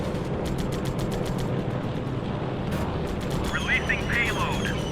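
Rapid bursts of gunfire crackle at a plane in the Air Conflicts Pacific Carriers video game, steady repeated reports over loud engine drone, with a voice talking through part of it.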